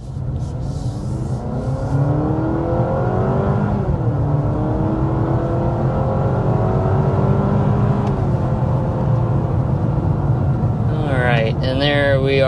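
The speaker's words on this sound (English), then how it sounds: "there we are, quickly accelerating up to 60 miles per hour" A 2026 compact SUV accelerates hard up to 60 mph, its engine note climbing steadily in pitch, with a shift partway through, under constant road and wind roar heard from inside the cabin.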